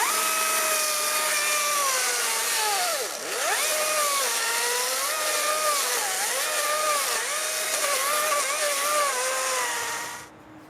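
A small chainsaw cuts into an oak log, its engine whining loud and close at high pitch with pitch dips as the chain bites and loads, running continuously for about ten seconds before stopping.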